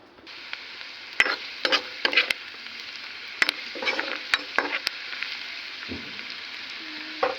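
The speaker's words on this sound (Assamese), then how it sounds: "এয়া পিঁয়াজখিনি সম্পূৰ্ণ ভাজা হৈ গৈছে।" Onions frying in a pan with bay leaf and chillies for a chicken curry, a steady close sizzle with intermittent sharp clicks and scrapes of stirring, no talk.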